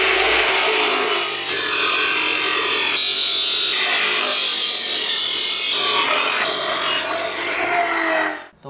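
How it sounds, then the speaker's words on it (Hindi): A 1.5 by 0.75 inch metal pipe for a DIY scooter paddock stand is cut with a power tool, giving a loud, steady, continuous grinding rasp that runs almost unbroken before it cuts off at the end. "तो ये साइज़ का पाइप यूज़ कर रहा हूँ। तो जल्दी से इसकी कटिंग कर लेते हैं।"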